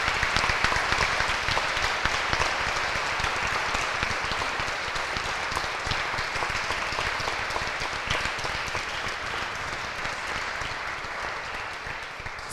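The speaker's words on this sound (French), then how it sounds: "Je voudrais vraiment que vous vous célébriez et que vous vous applaudissiez." A large audience applauds itself in a sustained, dense wash of clapping that fills the room for the full stretch, holding steady and fading only slightly toward the end.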